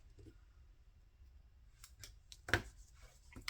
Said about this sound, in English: I'm gonna cut one of them just a little bit shorter